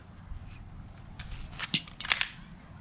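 Handgun dry fire and magazine reload drill, with sharp metallic clicks and clacks of the slide and magazine clustered near the end, close and fairly loud over low room noise.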